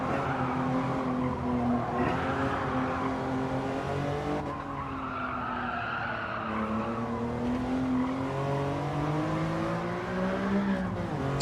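Tires squeal and skid continuously as a race car oversteers in Gran Turismo 7, a loud sustained screech with wavering pitch over a droning engine, no voices.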